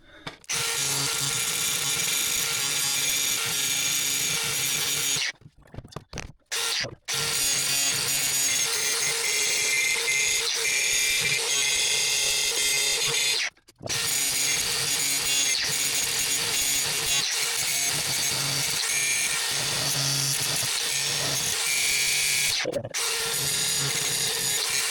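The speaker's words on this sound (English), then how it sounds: "let's see what the grinder says" An angle grinder runs almost continuously, loud and close, on the brake line of a 2006 Chevy Silverado, with several brief cutoffs where it stops and then spins back up.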